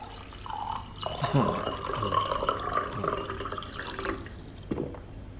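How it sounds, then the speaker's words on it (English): A drink poured during a song interlude: a liquid trickle and drips, close and fairly soft, set against background music with some voice underneath. "He pours himself a drink and drinks from it."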